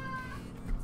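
A house cat gives a short, close meow with a rising, wavering tone, heard alone indoors.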